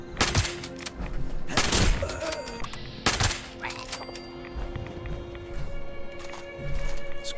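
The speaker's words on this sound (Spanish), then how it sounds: "Escopeta de corredera." A pump-action shotgun fires in Fallout 76, with a few loud, sharp blasts spaced out over the game's ambient background.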